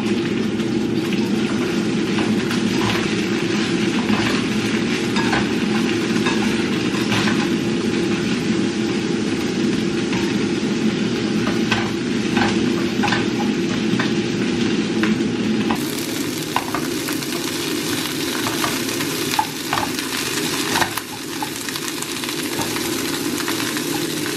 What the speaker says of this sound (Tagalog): May gisap siya sa bawang